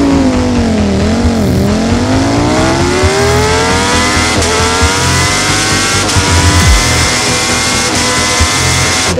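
A Ducati Panigale V4 SP motorcycle revs hard and loud, climbing through gears toward 300 km/h on the autobahn, each shift dropping then rising again in a long roaring pull, wind noise beneath.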